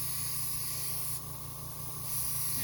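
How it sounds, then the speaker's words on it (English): A steady hissing spray is released onto a paper towel during brush cleaning for miniature painting, continuous and close, dipping slightly in the middle before swelling again, with no voices. "I'm going to spray."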